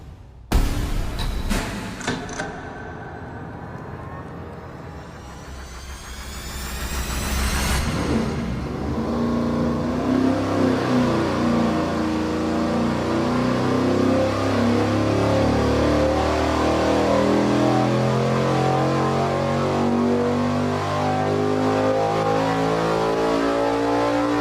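A race engine on a dyno, fitted with its smallest exhaust-duration camshaft during a header comparison, barks through a few sharp blips, then pulls into a long, loud, rising wail toward 7,000 rpm.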